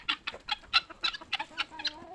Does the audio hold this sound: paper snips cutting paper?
no